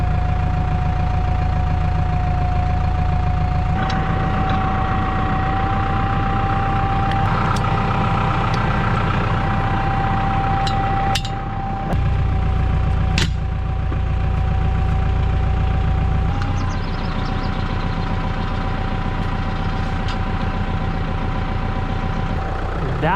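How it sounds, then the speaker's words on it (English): A farm tractor idles loudly and steadily at close range while backing up to hook onto hay-baling equipment, its deep, constant rumble holding throughout with a brief dip and small changes in tone. "let's back this tractor up"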